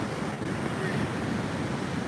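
Waves wash onto a beach under constant gusting wind that rumbles across the microphone, a dense, steady roar with no break.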